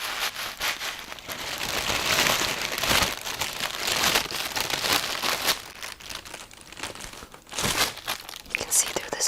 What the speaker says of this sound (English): So we got this paper stuff, wrapping paper, that's what it's called.